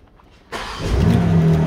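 A 2021 BMW M3 G80 engine cranks and fires after a brief quiet moment, then settles into a loud, steady idle close by.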